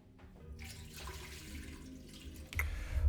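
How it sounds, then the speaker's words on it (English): About 2 litres of water pours into a pressure cooker for sterilising grain spawn jars, a steady close splashing stream that swells louder near the end. "Add around 2 quarts of water, or approximately 2 litres of water."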